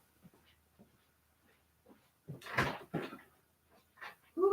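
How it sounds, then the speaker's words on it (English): A dog barks indoors in a few short bursts, close and fairly loud, with faint knocks and rustling between the barks in an otherwise quiet room. "My dog's barking like there's somebody at my door."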